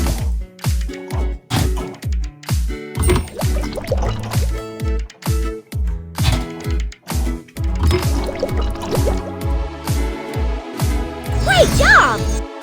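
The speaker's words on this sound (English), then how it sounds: "Pour engine fluid by color into tanks." Engine fluid pours into tanks in an excavator and bulldozer repair video game, heard as repeated liquid fill and drip sounds over a steady rhythmic music beat, with bright game chimes near the end.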